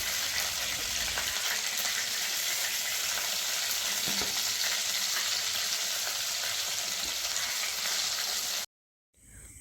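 Fried pointed gourds in hot frying oil, a continuous steady sizzle and crackle with a faint scrape midway, then an abrupt cutoff near the end.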